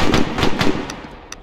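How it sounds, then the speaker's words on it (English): Rapid bursts of gunfire aimed at a mutant in S.T.A.L.K.E.R. crack out loud and close, several quick shots in a row followed by a few sparser single shots. "I was shooting at the fucking mutant"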